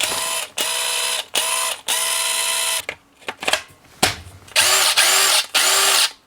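A DeWalt 20V XR DCF845 cordless impact driver at speed 1, screw mode, with a 6 amp hour battery, running in short bursts, a steady whirring whine with brief pauses between runs, close and loud, with no talking.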